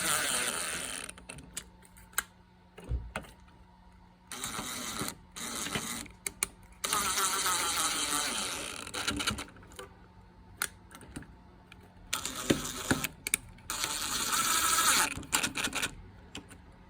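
Screws are driven and tightened on a Pentair IntelliFlo pool pump, giving bursts of ratcheting clicks and mechanical whirring separated by short quiet gaps, close by.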